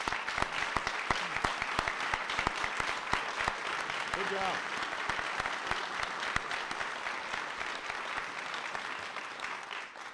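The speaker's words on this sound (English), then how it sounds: "So give them a big round of applause." A large audience at a national Teacher of the Year award ceremony gives sustained applause honoring state and national teachers. Dense, steady clapping runs throughout, and a voice briefly speaks partway through.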